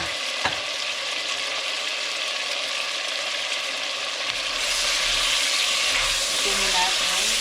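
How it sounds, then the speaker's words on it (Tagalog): Beef for beef pares frying in a pan, a steady hiss and crackle that swells louder partway through, with no voice heard. "Hayaan lang natin siyang maprito ng konti."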